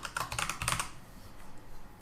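Fingers tap quickly on a computer keyboard, a close burst of clicky keystrokes that fades into soft room hiss halfway through.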